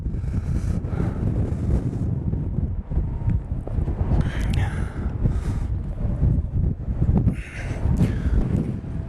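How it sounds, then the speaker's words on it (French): Strong gusts roar across a Mont Blanc glacier at an estimated 80 to 100 km/h, a loud, continuous rumble that buffets the microphone and surges in waves throughout. "la force des rafales, c'est certainement 80 à l'heure, entre 80 et 100 à l'heure"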